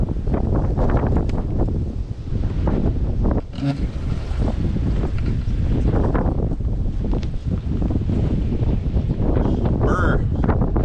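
Gusty wind buffets the microphone outdoors in a snowstorm beside a John Deere, a steady broadband roar that rises and falls continuously with brief rustles and a faint voice now and then.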